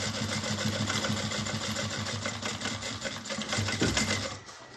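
A sewing machine runs steadily, stitching over existing seams on a fabric bag, its fast mechanical whir and rattle continuous and close before slowing near the end.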